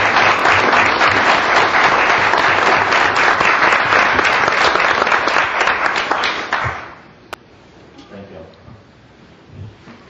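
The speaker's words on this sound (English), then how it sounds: "join me in giving these folks a round of applause" An audience at a city council meeting applauds art award winners with loud, dense clapping for about seven seconds, then it quickly dies away into a quiet room with a few faint knocks.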